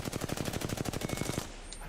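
Rapid automatic gunfire from a video game, a fast, evenly spaced burst of about a dozen loud shots that stops abruptly and gives way to quiet ambience.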